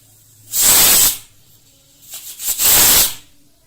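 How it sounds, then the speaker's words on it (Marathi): A pressure cooker steaming flour dough for summer sun-dried snacks releases two loud, close bursts of hissing steam, each about half a second long, separated by a short quieter gap, with no voices. "आता या कुकरला आपण झाकून घेऊयात आणि 2 शिट्ट्या याच्या लावून घ्यायच्या आहेत।"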